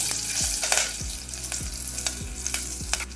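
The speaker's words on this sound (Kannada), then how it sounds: "ನಂತರ ನಾನು ಇದಕ್ಕೆ 1-2 ಸ್ಟ್ರಿಂಗ್ನಷ್ಟು ಕರಿಬೇವನ್ನು ಹಾಕ್ಕೊಳ್ತಾ ಇದ್ದೀನಿ" Curry leaves fry in a hot pan for pepper rasam, a steady crackling sizzle with a few sharper spatters and soft stirring scrapes, close up and with no voices.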